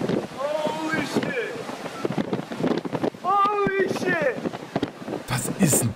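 Strong wind rushes and buffets the microphone while people talk and laugh excitedly over it, close and loud.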